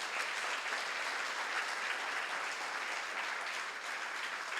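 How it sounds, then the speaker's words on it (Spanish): Sustained applause from a church congregation fills the space steadily at an even loudness, a dense wash of many hands clapping with no voices standing out. "un fuerte aplauso al Señor también"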